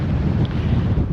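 Heavy wind buffeting a microphone, a constant low rumbling roar that fills the whole clip with no voices.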